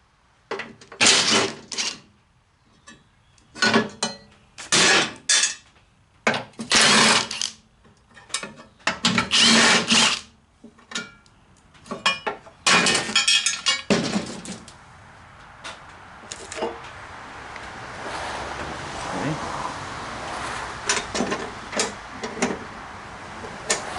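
Covers come off a Troy-Bilt Super Bronco tiller in a burst of close, loud metallic clatters, ratcheting clicks and scrapes, arriving in irregular bunches before fading into softer handling noise.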